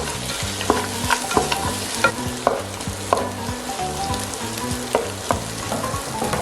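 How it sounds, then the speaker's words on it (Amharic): Dried meat for an Ethiopian pumpkin stew sizzles steadily in a pan while a utensil scrapes and stirs in a regular rhythm, close and clear with no talking. "በደንብ ማሸት፣ አብሮ መጥበስ።"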